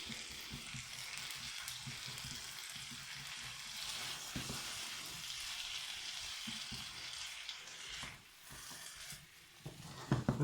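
A healthy homemade stir fry sizzles loudly in a new pan while being stirred, with a continuous bright crackle of frying broken by soft scraping and tapping of the utensil against the pan, no talking.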